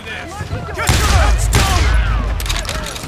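Dense video-game gunfire from Call of Juarez Gunslinger, set in the town of Lincoln, with a shotgun in the mix: a loud, continuous volley of overlapping shots and booms swelling after a brief quieter start, with voices faintly under the clatter.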